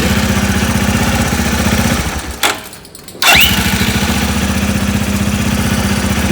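Falcon Freedom 250 motorcycle engine, one with a stalling fault, idling with a steady close putter that dies out briefly and then catches again, running on evenly afterward.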